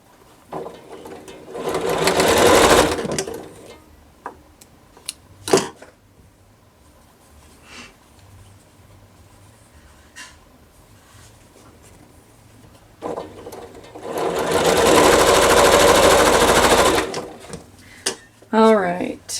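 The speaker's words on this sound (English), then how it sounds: "now I need to sew the last row of the 4 patches together" A sewing machine stitching rows of four-patch quilt block pieces runs in two loud bursts of a few seconds each, separated by quiet handling sounds and small clicks.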